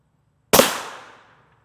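A single sharp rifle shot from a 16-inch barrel fired at Hesco D220C Level III+ body armor cracks out loud and close, then rings off over about a second, with no talk.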